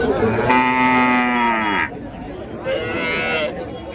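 Native cattle at the Uthangarai cattle market in Krishnagiri district low twice. A long, loud, close moo is followed after a short gap by a shorter, softer one, against a murmuring market background.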